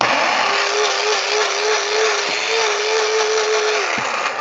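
A small electric grinder whirs steadily as it grinds pumpkin seeds and walnuts for gluten-free vegan cookies, a loud continuous motor drone with a faint pitch wobble, stopping near the end.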